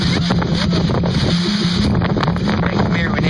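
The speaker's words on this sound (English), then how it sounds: "It's getting windy." Strong gusting wind ahead of a supercell thunderstorm roars steadily across the microphone, a loud, continuous rush with buffeting bursts and a low hum underneath throughout.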